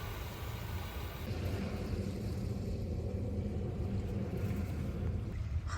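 Cold wind roars in a steady, unbroken rush on the foggy coast of Jangbongdo island, with a deep rumble underneath that never lets up.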